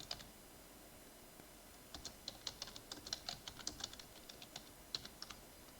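Python code typed on a computer keyboard: quiet, close keystrokes come in quick irregular bursts after a brief near-silent start, clicking along steadily.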